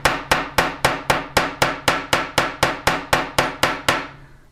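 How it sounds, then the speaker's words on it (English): A texture hammer fitted with interchangeable faces strikes metal in a steady run of about fifteen sharp, evenly spaced ringing blows, close and loud with no voices. "I hope you enjoy making your own texture with this hammer"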